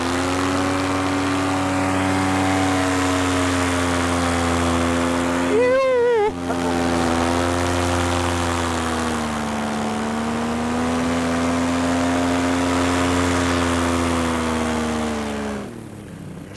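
Motor engine of a low-flying craft skimming over trees, a steady, loud buzzing drone that holds throughout, its pitch wavering briefly midway before easing off at the end.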